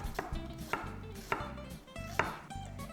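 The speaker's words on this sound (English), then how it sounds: "Cut into thin slice." Thin slices being cut with a knife on a board while preparing oyster bossam with meat and ginger: four crisp, evenly spaced chops close by, over a low steady background.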